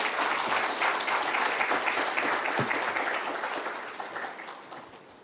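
An audience at an outdoor Green Climate Fund launch event claps to welcome the chief guest, a steady crowd of hands that stays strong at first and then slowly tapers off toward the end.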